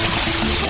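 A bucket of water dumped over a person lands as one loud, continuous wash of splashing, close and unbroken for under a second.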